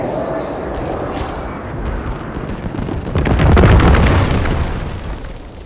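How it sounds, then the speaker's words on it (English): Heavy explosions from a bombing run in Call of Duty rumble loudly, building to a deep, sustained blast in the second half over continuous battle noise. "Inbound for bombing run"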